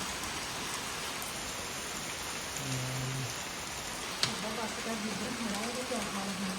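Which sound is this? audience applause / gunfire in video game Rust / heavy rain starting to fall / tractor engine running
heavy rain starting to fall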